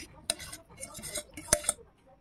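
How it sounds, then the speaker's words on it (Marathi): Metal spoon scraping and clinking against a steel mixer jar as soft cooked guava pieces are scooped in, a few sharp taps among quieter scrapes, close and alone. "मिक्सर जारमध्ये हे मी काढून घेते आहे।"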